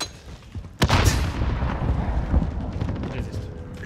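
A grenade blast in Call of Duty: Warzone lands as a sudden loud boom early on, then a long rumbling tail and scattered battle noise.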